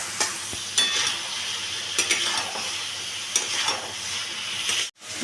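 Fried prawn muitha being stirred into a spiced sour yogurt masala in a pan, with a steady sizzle, intermittent spoon scrapes and clinks against the pan, and an abrupt cutoff at the end.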